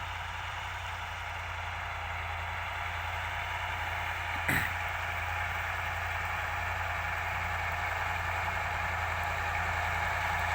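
A T-150 wheeled tractor pulling a Veles Agro disc plough through stubble, its engine a steady, even drone with low rumble and a single brief knock midway, no talk.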